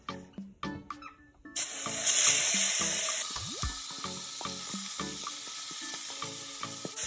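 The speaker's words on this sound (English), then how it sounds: "we're going to take the remaining vegetables and we'll saute this for 5 minutes" Vegetables for brown stew chicken sizzle loudly in a hot pan with a steady hiss, after a few clattering knocks at the start and occasional stirring clinks.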